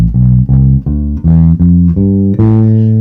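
A bass guitar plays a natural minor scale rising from C, seven sustained notes picked one after another in a steady rhythm, loud and close with no talking.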